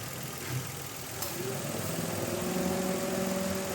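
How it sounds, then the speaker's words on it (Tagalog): A Mitsubishi Mirage G4 idles with its air conditioning switched on, a steady low engine hum with a faint whine layered over it. A voice is briefly heard above it. "umi-start na itong sasakyan ni customer at wala na nga yung ingay niya"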